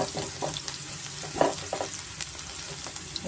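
Garlic frying in oil for garlic egg rice crackles with a dense, steady sizzle, broken by light stirring clicks and scrapes of a spoon in the pan; no voices.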